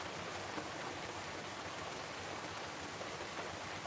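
Heavy rain pours down during a southern storm, a steady, hissing wash of water with no voices and no letup over the few seconds.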